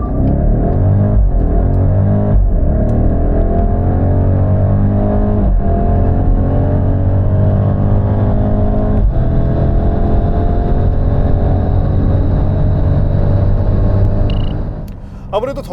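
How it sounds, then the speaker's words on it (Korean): A 2024 BMW X6 facelift of around 500 hp launches from standstill and pulls to 200 km/h, its engine rising through several quick gear changes early on, then a long sustained climb before easing off at the end. "그렇다면 시속 200km까지 발진 가속 성능 얼마나 나왔는지 볼까요?"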